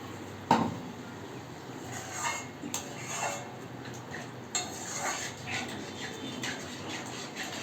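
Bottle gourd and moong dal with prawns are stirred in a pot, giving faint, scattered scrapes and light metallic clinks at close range against a steady background hiss.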